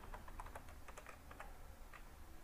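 Quick, irregular clicks of typing on a computer keyboard while entering a keyword, close and quiet, with no talking.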